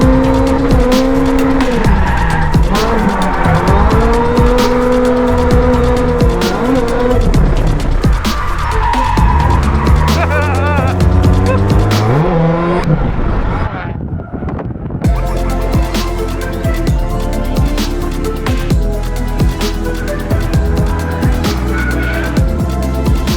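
Beat-up old Toyota Corolla drifting on a world-class road course, engine loudly revving and shifting up and down with sustained tire squeal throughout, close and continuous.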